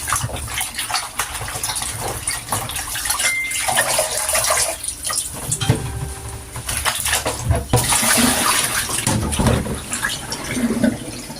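Tap water runs steadily and splashes as salted cabbage is rinsed for kimchi, a loud, continuous gushing wash with shifting splashes throughout and no talk.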